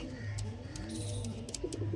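Lambadi pigeons coo in low, soft repeated calls under a steady murmur of background noise, with a few faint higher chirps scattered through.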